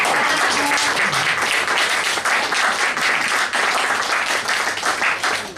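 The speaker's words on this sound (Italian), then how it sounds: "e un applauso per tutti i familiari" Audience applause for the family at an evening music event, a loud, steady, full wash of many hands clapping that carries on evenly with brief dips.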